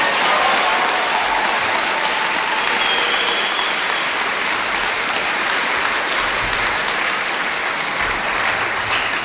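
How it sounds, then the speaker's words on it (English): A large crowd at a high school graduation ceremony applauds steadily, a dense, even wash of clapping that holds at a constant level with a faint cheer early on. "Let's give them a round of applause."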